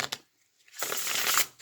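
Close, soft riffle of a tarot deck being shuffled: two quick taps, a short quiet gap, then a sustained papery whoosh of cards sliding together.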